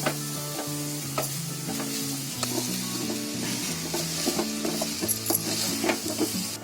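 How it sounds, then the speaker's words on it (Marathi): Mint rice gets stirred in a pot with a spoon, giving steady scraping and clinking with a faint sizzle underneath, while a repetitive mechanical whir runs throughout. "आता चांगलं ढवळून घेते"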